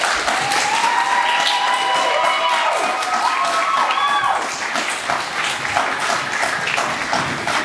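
Audience applause and cheering at a primary school graduation assembly, loud dense clapping from a crowd with children's shouts and whistle-like calls over it, continuing throughout.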